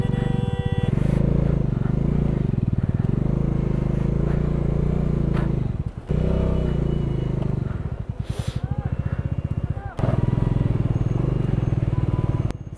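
Several motorbikes ridden by a touring group, in Karnataka-registered vehicles, pass along the high mountain road toward Baralacha Pass in Spiti, their engines droning loud and close with a pulsing, rising-and-falling roar that dips briefly twice.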